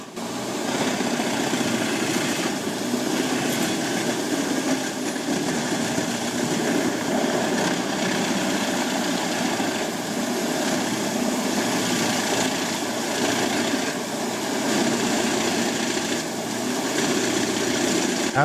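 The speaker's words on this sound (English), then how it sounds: "The rasping sound of wood being shredded blends with the powerful engine noise" A Jinshem 700D wood chipper shreds large tree trunks, its powerful engine roaring steadily with a continuous rasping, grinding texture, loud and close throughout with no pauses.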